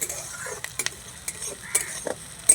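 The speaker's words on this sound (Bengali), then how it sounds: "টমেটোটা দিয়ে একটু নাড়াচাড়া করে নেব" Tomatoes being stirred in a frying pan while cooking egg fried rice, giving soft scraping and clinking spatula strokes at an irregular pace over a faint sizzle, close and moderately quiet.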